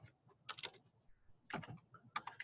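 Computer keyboard typing in short quiet bursts of rapid clicks separated by pauses, close and faint with no talking.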